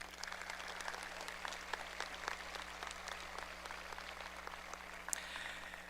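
Audience applause fills a high school graduation ceremony, a steady wash of scattered claps heard from a distance over a low constant hum.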